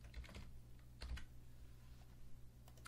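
Someone types briefly on a computer keyboard. The key clicks come in short quiet clusters over a low steady hum, close by and soft, with no talk.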